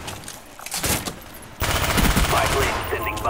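Rapid automatic gunfire in the Call of Duty Black Ops video game, dense, loud and continuous, with sharper bursts up close and a voice talking over part of it.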